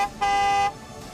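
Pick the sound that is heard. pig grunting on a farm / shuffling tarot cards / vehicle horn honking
vehicle horn honking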